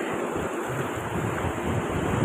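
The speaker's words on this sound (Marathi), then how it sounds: "ती लाटच आली माझ्याजवळ" Sea waves wash up on Arambol beach in Goa, a steady, continuous roar of surf mixed with gusting wind noise across the whole stretch, with no voices.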